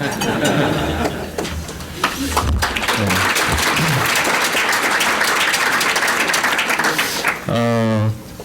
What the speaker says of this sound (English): I'd like a bigger round of applause for them.